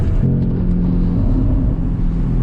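Porsche 981 with a Soul Performance competition exhaust, valves open and windows up, producing a loud, steady low engine drone heard from inside the car with no talking.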